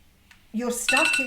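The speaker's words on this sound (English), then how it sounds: "that's my alarm going off" A phone alarm sounds with a short, bright electronic tone during a tarot card reading, starting abruptly over a voice.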